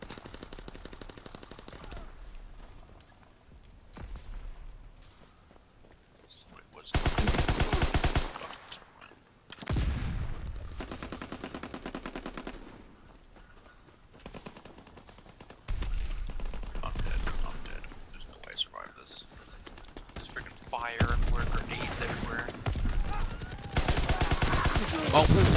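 Slow, spaced gunfire from a World War II era gun in Call of Duty WWII, with loud shots coming in separate bursts among other battle noise while someone talks between them.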